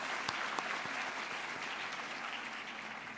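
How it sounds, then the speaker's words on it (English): Audience applauding for the moms and dads at a preschool annual day show, a steady dense wash of clapping from a crowd held at even loudness throughout. "So let's clap for all the moms and dads."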